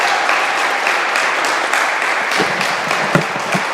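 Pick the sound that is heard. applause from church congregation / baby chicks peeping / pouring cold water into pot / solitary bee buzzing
applause from church congregation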